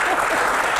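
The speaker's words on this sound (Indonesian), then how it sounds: "Tepuk tangan dulu." A short burst of steady, dense clapping from a studio audience at a Q&A with the head of the Indonesian Medical Association, filling the moment with no pauses.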